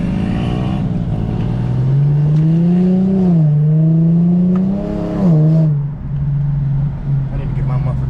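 A dirt bike engine revs and holds a droning, rising and falling pitch on a Baltimore street, close and loud, with a car engine also present.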